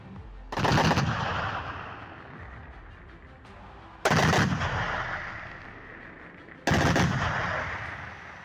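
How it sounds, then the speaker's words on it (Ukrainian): A Gepard anti-aircraft gun fires its twin 35 mm autocannons at drones in three loud, sharp bursts of rapid fire, each dying into a long rolling echo; no voices are heard. "Гепард оснащений двома 35-мм автоматичними гарматами, завдяки чому ЗРК здатний вести швидкий і точний вогонь"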